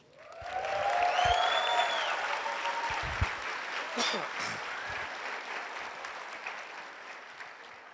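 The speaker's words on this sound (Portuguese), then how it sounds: "E eu gostaria que você aplaudisse a vida do Felipe Lócio." An audience in a church breaks into applause, the clapping swelling quickly to a full, dense wash and then slowly tapering, with some voices and cheers mixed in.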